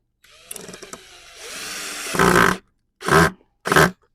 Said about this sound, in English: using my power drill, attach this end of the batten to the stake